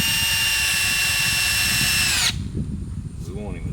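A power drill whines steadily for about two seconds, driving screws while a mailbox is installed, then cuts off abruptly, leaving quiet handling noise.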